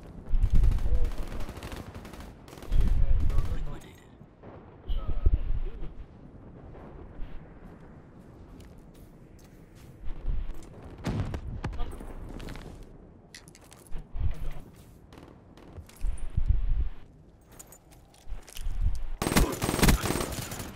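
Bursts of gunfire from an online search-and-destroy shooter match, several loud clusters spread across the stretch, with game announcer callouts and rumbling in between.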